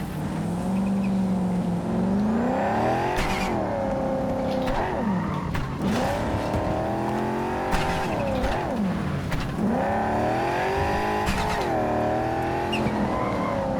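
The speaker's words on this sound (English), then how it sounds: "Very fast car." A very fast car races through Cyberpunk 2077, its engine revving up and down in repeated sweeps as it shifts and accelerates, with tires squealing through turns, loud and close throughout.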